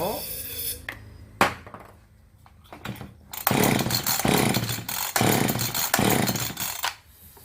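A Husqvarna 340 chainsaw's two-stroke engine, which won't fire despite good compression and spark, is yanked several times, sputtering briefly without catching, then revs in bursts that cut out between pulls.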